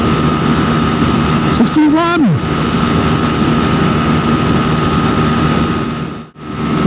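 A Sinnis SM-XE motorbike runs at speed on a road with a steady, droning engine hum and wind rush throughout. The rider shouts briefly over the noise early on.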